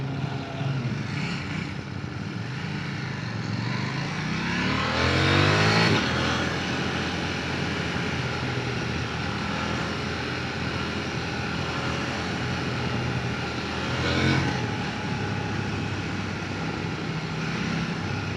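Zontes 703F motorcycle engine revving while riding, a steady loud drone with two rising surges of throttle and wind rush.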